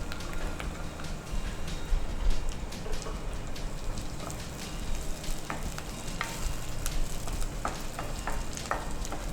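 Sliced onions soften in a hot oiled pan, a dense continuous sizzle with crackling spits and occasional stirring scrapes, fairly close and steady with no speech.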